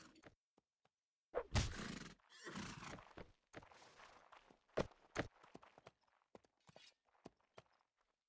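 Horse in a medieval battle game neighing loudly, followed by scattered hoof thuds and footsteps, with quiet gaps and small knocks between.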